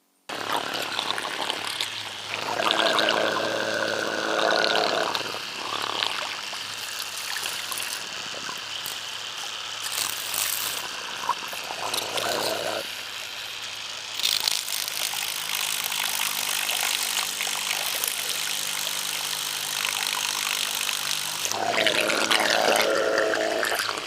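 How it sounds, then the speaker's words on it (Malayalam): Steady rush of water splashing and streaming from a small, inexpensive high-power DC water pump, with a constant mechanical hum underneath, continuous for the whole stretch. "ഇതിൽ വെള്ളം പമ്പ് ചെയ്ത് വരുന്നുണ്ട്"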